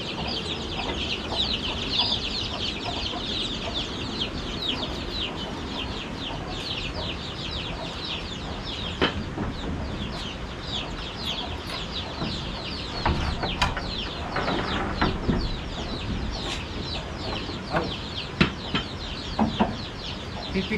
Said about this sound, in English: So you have small chickens?